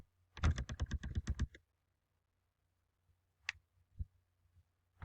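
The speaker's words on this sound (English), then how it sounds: "I'm typing too fast." Someone types on a computer keyboard while logging in online: a quick, close burst of about a dozen key clicks, then silence, then a few isolated taps.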